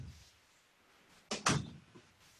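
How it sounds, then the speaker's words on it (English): An indoor door is pushed shut, giving two quick sharp thuds close by, with a faint softer knock after them in an otherwise quiet room. "let me just shut the door over here"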